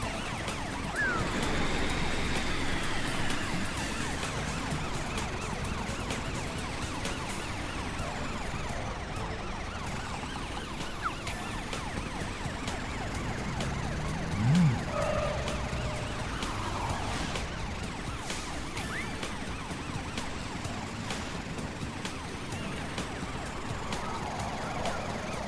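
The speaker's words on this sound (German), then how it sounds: "Die Streifenwagen werden Klein Francis zurückholen." A police patrol car siren from a children's cartoon set in Autopolis wails steadily and loudly for the whole stretch, its tone rising and falling over a busy, layered background.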